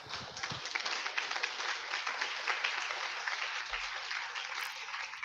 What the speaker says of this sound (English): Everybody give a round of applause for Christian Westbrook.